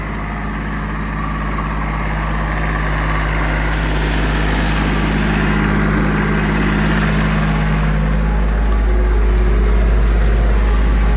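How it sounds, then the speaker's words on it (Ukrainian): Kubota GL-261 mini tractor turning in place, its small diesel engine running steadily with a close, loud low hum and a constant mid-range drone throughout, no talking. "обертається на місці."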